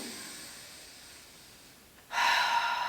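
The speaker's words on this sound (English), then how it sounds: "breathing in" A deep inhalation during a grounding breath in a yoga hip-opening flow, starting as a quiet, airy draw and swelling abruptly into a louder, close rushing breath toward the end, heard alone.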